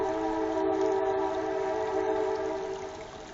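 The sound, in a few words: train passing with horn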